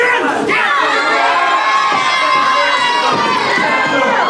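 Loud crowd cheering and shouting fills a professional wrestling steel cage match, a dense sustained roar of voices with excited yells rising and falling throughout.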